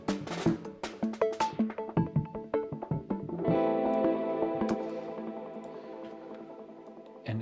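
Drum and bass production with a distorted Korg MS-20 synth: punchy percussive hits and stabs open the passage, then give way to a dense, sustained, gritty chordal wash that slowly fades, loud and upfront.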